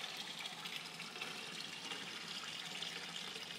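Water pours from a steel spillway into a cement koi pond, a steady, unbroken splashing rush heard at a moderate distance with no voices.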